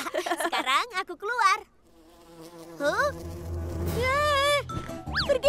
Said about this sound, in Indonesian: Masih ada lebah.